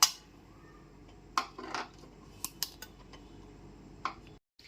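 A metal spoon clinks and scrapes against a pan while stirring fried cashews, almonds and raisins into dry semolina halwa over a low flame, giving a few sparse, close taps with quiet gaps between them.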